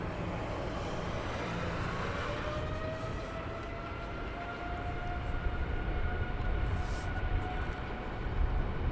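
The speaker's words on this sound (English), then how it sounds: "good news is the A380, Emirates A380, is actually taxiing towards us" An Emirates Airbus A380 taxis at London Heathrow, a steady distant jet engine rumble and whine mixed with wind noise. It swells slightly as the aircraft draws nearer.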